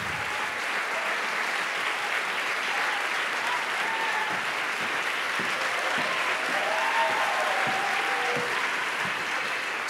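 An audience applauds at an onstage film event welcoming composer Hildur Guðnadóttir, a sustained, even wash of clapping from a full crowd that holds steady for the whole stretch.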